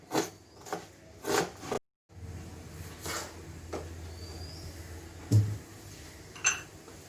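A knife knocks on a cutting board while onions are chopped fine, giving a few sharp, irregular taps with quiet pauses between them rather than a fast steady rhythm.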